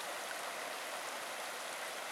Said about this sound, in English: There's a creek emptying into the lake